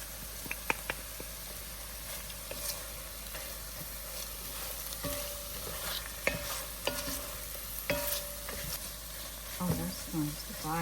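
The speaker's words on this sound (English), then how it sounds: "I'm going to add the garlic" Garlic frying with cooked-down mushrooms in a pan sizzles quietly while a utensil stirs and scrapes in repeated strokes, close by with occasional clicks.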